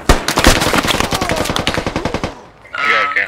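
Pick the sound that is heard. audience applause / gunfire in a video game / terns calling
gunfire in a video game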